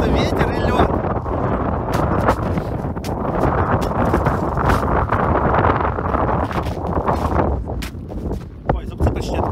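Strong wind blasts across icy cliffs in Crimea, a loud continuous roar buffeting the microphone with gusts and thumps, while people talk underneath.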